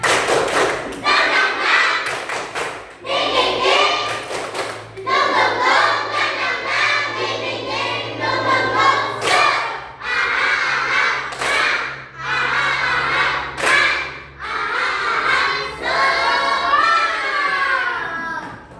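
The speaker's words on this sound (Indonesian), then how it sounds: "Sekali lagi, tepuk semangat." Young pupils in a classroom clap a fast rhythmic spirit-clapping pattern (tepuk semangat), sharp claps in quick bursts mixed with their chanting voices, loud and close throughout.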